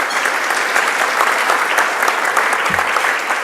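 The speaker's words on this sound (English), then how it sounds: "Another round of applause, please." An audience claps steadily and loudly through a Caribbean tourism industry awards ceremony. The applause is dense and continuous, with a faint crowd murmur underneath.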